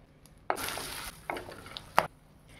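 Whole spices, bay leaf, cloves and cardamom, hit hot oil for an okra butter masala. Sharp clatters and knocks come as each goes in, followed by bursts of crackling sizzle that rise and fade in short waves, with no voice.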